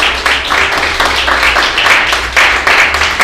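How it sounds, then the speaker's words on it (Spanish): A church congregation applauding the Lord during a sermon, loud close rhythmic clapping with pulsing waves of claps that continue steadily throughout. "¿Cuánto le dan un aplauso al Señor?"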